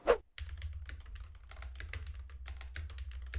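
Rapid computer keyboard clicks patter continuously and close by, over a steady low electrical hum, picked up by a budget microphone with poor noise rejection.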